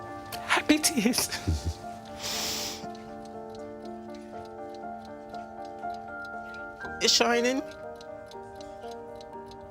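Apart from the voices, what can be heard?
ticking of a restored childhood clock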